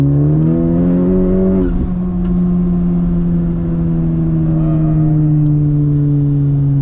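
A tuned 2019 Honda Civic Type R engine, about 419 hp, drones loud and steady as it pulls in third gear, the pitch rising slowly with a brief shift in tone partway through.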